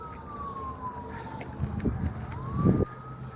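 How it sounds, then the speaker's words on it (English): Emergency vehicle sirens wail in a Kansas City street, a rising and falling tone at moderate distance over traffic rumble, with a couple of louder thuds and bursts of noise. "Listen to these sirens."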